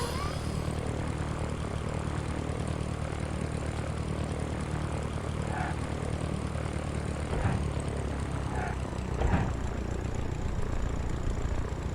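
A propeller aircraft engine in the Sierra Pro Pilot 98 flight simulator drones steadily and evenly throughout, with a few faint clicks near the end during a rough approach to land.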